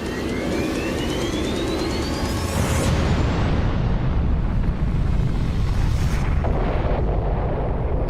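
The atomic bomb blast over Hiroshima, nearly 15,000 tons of TNT, rendered as a sustained loud roaring rumble with a rising whine, a broad swelling boom near the middle and another surge later, continuous with no voices.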